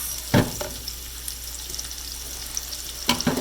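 Onions hit about a quarter cup of oil over medium heat for carbonara: a steady close sizzle runs throughout, with a sharper burst of crackling near the start and another near the end.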